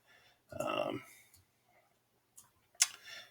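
Computer mouse clicks while working in Adobe Illustrator: a short cluster of close, soft clicks near the start, then a few isolated crisp clicks, with quiet gaps between.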